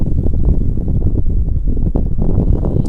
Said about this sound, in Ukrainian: а блін, роздув такий вітерець холодний